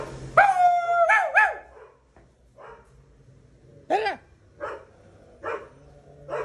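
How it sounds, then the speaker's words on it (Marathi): Dogs bark outdoors with sharp yips and a howl-like opening burst, then a few shorter, quieter barks spaced apart, fairly close, with people talking in between. "तिकडे कुत्री फुकतात"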